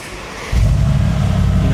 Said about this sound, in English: The V8 has a totally different sound to every other AMG that has this V8.